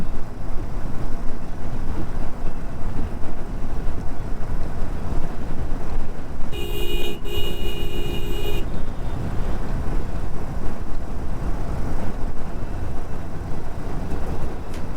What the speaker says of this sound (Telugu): చూసారా, మళ్ళీ ట్రాఫిక్ అయితే పెరిగిపోయింది